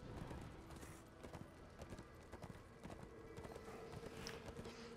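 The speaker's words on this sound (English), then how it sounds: "It is handy I get my horse very early from the get-go" A horse gallops in the video game Darksiders 2, a quiet rapid clip-clop of hooves running steadily over a low background bed of game noise.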